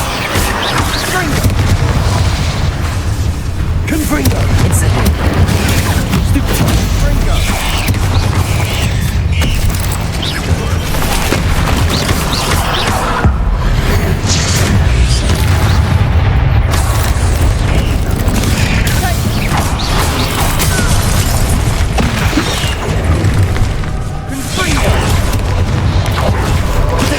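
Spell explosions and bursts crackle continuously in the wizarding video game Hogwarts Legacy, with fire and blasting spells booming over a dense, loud backdrop of game music and effects while a voice shouts spell names throughout.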